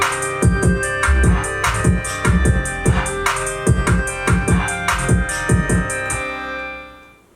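Trap drum beat with punchy kicks, crisp hi-hats, a shaker, and vocal chant tags layered over a melodic loop, loud and steady before fading out at the end.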